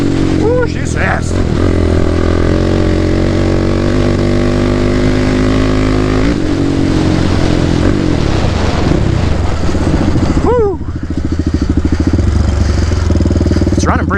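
A Predator 560 big-bore engine on a trail vehicle roars loud and close. It revs hard with throttle swells and a brief dip near the end, under some excited talk.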